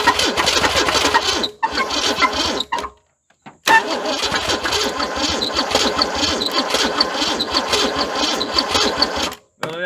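A 1978 Ford Fairmont engine that sat for 35 years cranks loudly in long, rhythmic bursts, with brief pauses between attempts and no sign of catching.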